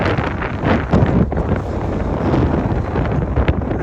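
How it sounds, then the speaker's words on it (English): Strong wind buffets an outdoor microphone during a walk, a loud, continuous rumbling roar with gusty swells throughout and no voices. "that's windy, but oh well."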